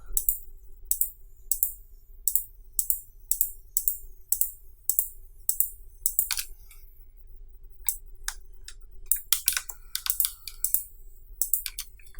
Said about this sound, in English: Now click E on your keyboard and start selecting these polygons